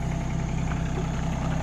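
A compact tractor engine runs steadily while its front end pushes against a giant tree stump, a constant low mechanical drone with a throbbing idle-like hum, close and moderately loud, with no talking.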